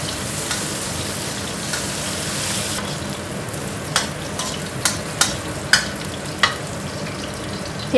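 Chili, shallots and garlic being stir-fried in a pan, a steady close sizzle with scraping stirs and sharp clicks of the utensil against the metal toward the end.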